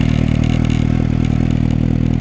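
A Suzuki GSX-S750 motorcycle fitted with a Scorpion exhaust runs just after starting, a loud, close, steady idle with an even, throbbing low rumble and no voices.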